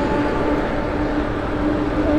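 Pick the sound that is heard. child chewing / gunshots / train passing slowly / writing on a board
train passing slowly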